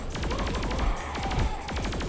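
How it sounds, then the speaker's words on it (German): Alien laser guns fire in the Saints Row 4 video game, rapid clustered bursts of sharp zapping shots repeating in quick volleys, loud and close, with no talk. "Warum haben Aliens immer Piu-Waffen?"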